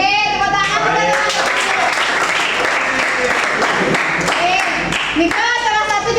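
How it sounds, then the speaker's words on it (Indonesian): Classroom applause from a group of children, loud and continuous clapping close by with kids' voices and an adult talking over it. "Oke, tepuk tangan."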